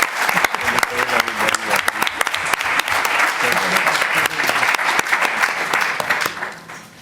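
Audience at a round-table talk giving a welcoming round of applause for the speakers, loud sustained clapping that tapers off at the end.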